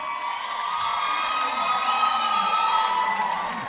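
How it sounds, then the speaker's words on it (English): Crowd at the Orange Farm EmpowaYouth 2023 main stage cheers and whoops in a sustained, fairly even roar, with clapping blended into the noise. "Round of applause, a round of applause, a round of applause"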